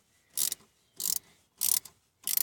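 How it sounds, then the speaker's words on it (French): Ratcheting socket wrench with an 8 mm socket removing a starter connector on a Renault Dauphine, four short bursts of rapid clicking at an even rhythm, close and clear. "avec une douille de 8 là, on démonte la première connectique"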